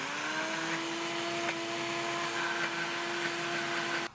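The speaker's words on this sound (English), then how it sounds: "we want to blend it until it's smooth" A blender whirs steadily while blending cottage cheese until smooth, a constant close motor drone with a faint rising pitch that cuts off abruptly at the end, with no talk.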